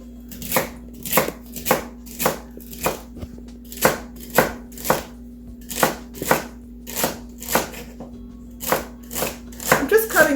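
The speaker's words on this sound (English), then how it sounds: "Cutting them into 1/4 inch, 1/2 inch slices" A kitchen knife chops through held-together celery stalks, slicing them into quarter- to half-inch pieces on a cutting board, a steady series of about twenty crisp, close chops in even rhythm with no talking.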